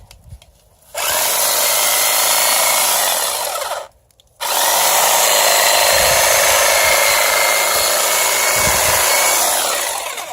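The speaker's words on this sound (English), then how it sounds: "So I'm just going to go underneath it. Trimming off all this old dead stuff." A powered trimmer cuts old dead growth on ornamental plants such as mums, daisies and grass during a spring cleanup. It whirs loudly and steadily in two long bursts separated by a short pause.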